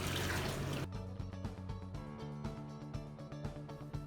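Splashing and trickling as a mop is dipped in a bucket of rinse water and wrung out for cleaning tile floor and grout, a loud wet rush settling into steady dripping and running water; no voices.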